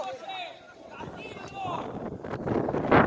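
Outdoor wind buffets the microphone at an amateur football match, a rough, uneven rumble that swells toward the end while a commentator talks over it.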